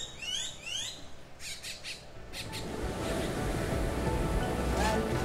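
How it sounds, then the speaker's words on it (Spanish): Birds squawk loudly close by on an island in Corales del Rosario national park, a burst of sharp calls that gives way to steady rolling surf and sea wash. "poder contemplar el sonido de las aves"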